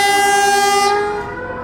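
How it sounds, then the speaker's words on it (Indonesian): A CC201 diesel locomotive shunting at Bangil station in Indonesia sounds its horn. The blast is loud, near and sustained, and it ends sharply after about a second. "itu dia lokomotifnya CC201 sedang langsir."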